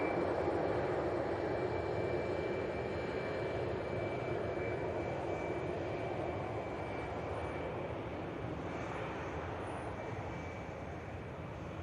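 At Manchester Airport, an airliner taxis onto the active runway for departure to Kos, its engines giving a steady, fairly distant roar that holds evenly and fades slightly toward the end.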